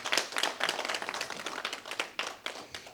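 An audience at a political support forum claps for their chairman, a dense, steady patter of many hands that swells and dips over a few seconds, with no voices on top.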